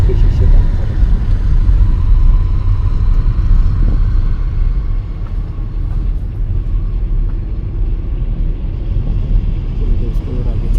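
Inside a car with its windows closed, driving along a forest road through Sitabani Forest in Jim Corbett National Park: a steady, heavy low road rumble persists throughout while someone talks over it.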